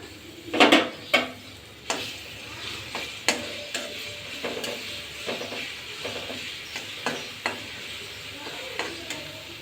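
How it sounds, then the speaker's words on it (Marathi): Chopped garlic fries in hot oil for a red chilli chutney, sizzling steadily under repeated sharp scrapes and taps of a spatula stirring the pan, loud and close, with no speech. "याच्यामध्ये लसण घालूया लसण कडक होईपर्यंत आपण हा परतून घेऊया"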